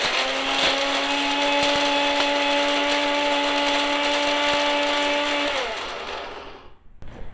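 Tea leaves are ground to powder in an electric grinder that whirs loudly with a steady motor whine for about six seconds, then winds down and stops.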